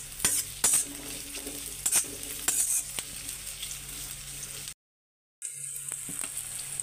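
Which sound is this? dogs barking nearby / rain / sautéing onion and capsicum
sautéing onion and capsicum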